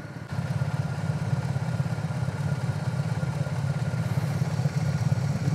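Single-cylinder BMW G 310 GS adventure motorcycle idling, a steady low throb that holds close and even throughout, with no talk over it.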